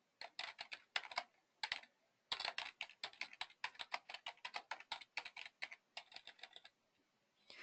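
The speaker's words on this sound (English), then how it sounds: "So you can start typing from here." Close, quiet typing on a computer keyboard: rapid bursts of soft key clicks separated by short pauses, with no talking.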